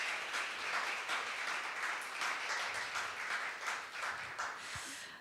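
Audience applause at the opening of the 2022 H-Ondream startup ground event, a steady wash of many hands clapping at fairly even loudness for several seconds, with no voices over it.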